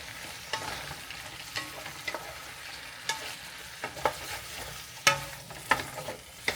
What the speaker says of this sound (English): Let it cook a little bit in the butter.